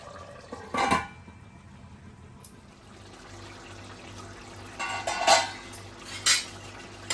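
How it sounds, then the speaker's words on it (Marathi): Metal lid set onto a cooking pot of vegetables, with a sharp clank near the start and more clattering knocks later, under a faint steady hum. "हे झाकण ठेवते मी"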